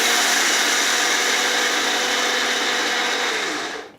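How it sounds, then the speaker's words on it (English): A small electric coffee grinder whirs loudly as it grinds linseed and chia seeds, a steady high whine held for several seconds before the motor cuts off and spins down. "this is kind of a coffee grinder, so I'll just blend it and wait a second"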